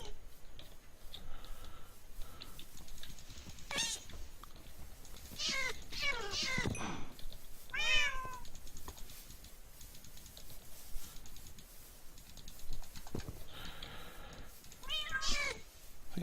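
Meows from Minecraft ocelot cats, a handful of short, separate calls spread across the stretch, close and distinct over a faint game backdrop, no talking.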